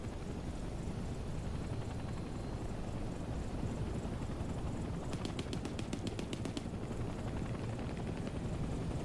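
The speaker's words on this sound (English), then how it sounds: "Get your choppers out of here." A helicopter in the Hell Let Loose Vietnam video game drones steadily throughout, with a burst of rapid gunfire partway through and a constant rumbling low-end wash, no talking.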